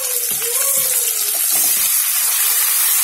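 Chopped tomatoes sautéing in hot oil for tomato chutney give off a bright, steady sizzling hiss. A few short tonal squeaks and soft knocks come early, and the frying continues loud and close throughout.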